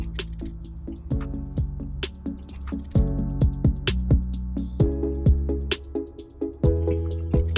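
Carriage bolt clinking and rattling along a bolt buddy wire inside a 2019 Subaru Outback frame during trailer hitch installation, close metallic taps and jangles in an irregular stream with ringing tones, no talk.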